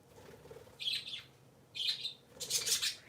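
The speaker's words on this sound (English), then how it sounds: "Birdies are silly this morning. Are you playing tag?" Three pet parakeets chirp in short bright bursts, three clusters of tweets spaced about a second apart, fairly close and clear over a quiet room.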